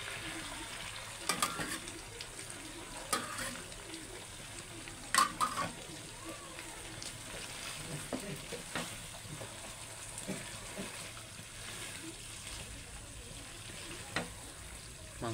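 Duck meat in a cooking pot after hot water goes in, a steady low bubbling sizzle with scattered clinks and scrapes of a stirring spoon, close and moderately quiet.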